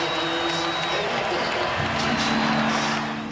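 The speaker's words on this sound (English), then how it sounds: "He's got 79 points, and the crowd is just going crazy." A basketball arena crowd roars and cheers as Kobe Bryant reaches 79 points, a loud sustained wall of noise with swelling shouts and clapping, close and continuous, with a voice talking over it.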